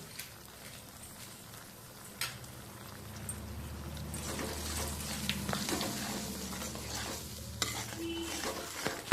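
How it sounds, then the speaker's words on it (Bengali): A mustard-based spice paste with chilli powder is sautéed over low-medium gas flame in a pan, with constant sizzling and steady spatula stirring and scraping, growing slightly louder midway. "এই সময় গ্যাসের ফ্লেমটা আমি একদম লো মিডিয়ামে রেখে মশলাটা কষিয়ে নেব"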